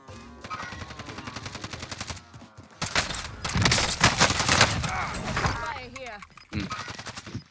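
Gunfire erupts in Call of Duty Warzone, with bursts of automatic rifle fire and rapid shots growing louder and denser midway, while players talk intermittently over the action.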